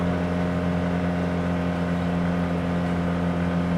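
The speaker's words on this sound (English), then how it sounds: "engine noise might be a little bit more, might be a little bit louder under acceleration specifically" An Arctic Cat Wildcat Trail 700 engine fitted with a D&P vent cover drones steadily at a constant pitch, a close, even mechanical hum with no changes in revs throughout.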